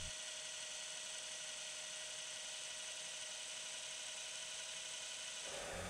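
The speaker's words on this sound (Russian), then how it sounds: "Включаю шуруповерт на медленных оборотах и произвожу покраску." A cordless screwdriver spins at low speed while a homemade fishing float is painted with water-based fluorescent white paint, a continuous even motor whine and hum that holds steady throughout, close and alone with no talking.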